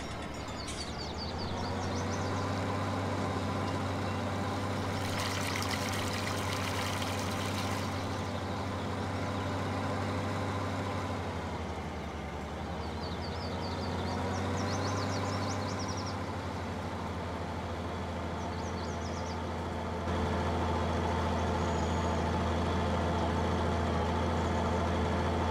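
A farm vehicle driving out to a field to start threshing barley in Farming Simulator 19, set in the Tyrolean Alps: a steady low engine rumble with a faint whine, swelling and easing slightly as it travels.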